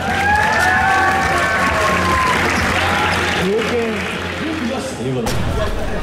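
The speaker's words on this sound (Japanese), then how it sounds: "大きな拍手を" A basketball event crowd bursts into loud, dense applause mixed with cheers and babble, while a voice speaks over the noise throughout.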